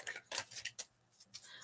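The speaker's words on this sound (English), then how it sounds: "let me shuffle." Oracle cards being shuffled by hand, a quick series of soft crisp riffles and snaps, close and quiet with no talk.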